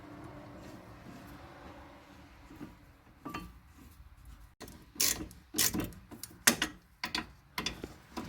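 A wrench ratchets on the front caliper bracket bolts of a 2005 Ford Escape / Mazda Tribute. After a quiet start, sharp clicks come in uneven bursts, growing more frequent toward the end.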